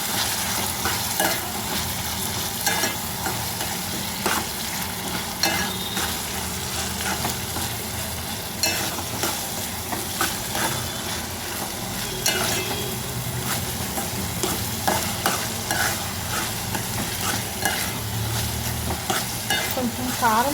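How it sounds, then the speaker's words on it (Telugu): Paste stirred as it fries in hot oil for a bitter gourd and tomato curry, a steady loud sizzle with continuous spoon scraping and stirring throughout, close and without talk. "చూడండి, ఇదిగోండి వేసాను ఈ పేస్ట్, వేసి కలుపుతున్నాను."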